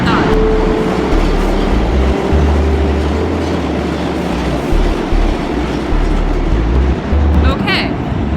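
Subway train rumbling and rattling along the rails, a loud continuous roar with low drones and clacks throughout; faint voices murmur beneath it.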